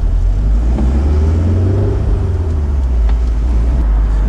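A Fiat Barchetta roadster pulls away from a stop, its engine revving up in a steady, loud, close rumble that rises as the car accelerates, with no talking.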